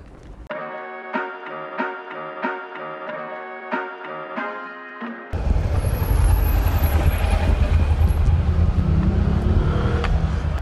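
Car and truck traffic in the town centre of Langogne comes in after a few seconds of tonal chiming. Vehicles rumble past loudly and close by, with a high squeal partway through.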